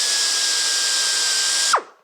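A small size 332 drill whines at high speed while drilling rivet holes, a steady close, loud tone that winds down and stops near the end.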